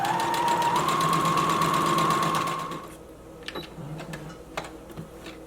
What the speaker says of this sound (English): I've lowered my needle, sewing, back stitch, and keep sewing until you get to the end.